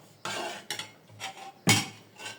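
Pots and utensils clatter during cooking of thick masoor lentil dal: a few scraping stirs and clinks of metal, one sharper knock near the end, close by and without talk.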